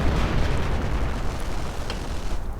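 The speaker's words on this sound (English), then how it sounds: "Howitzer going in against the German position right here with the mortar" A howitzer shell explodes on a German position in a war strategy video game, a loud, dense, rumbling blast that fills the whole clip with continuous low roar and no voices.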